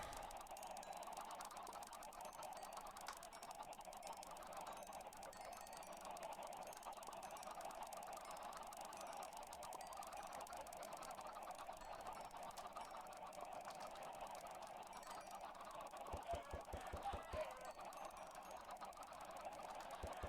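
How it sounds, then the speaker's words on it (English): Chickens in the Minecraft video game cluck faintly and continuously under a steady buzzy background hum, with a brief burst of quick clicking taps near the end. "more chickens!"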